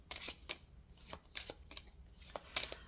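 Tarot cards shuffled by hand in a quiet room, a series of crisp riffling bursts and soft flutters repeating irregularly, close and moderately quiet.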